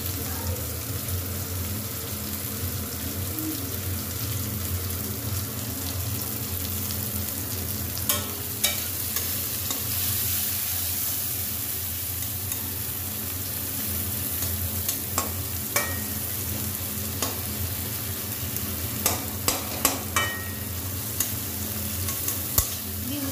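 Onion and chillies fry in hot oil in a wok for noodles, a dense, steady close sizzle with occasional clinks and scrapes of stirring scattered through.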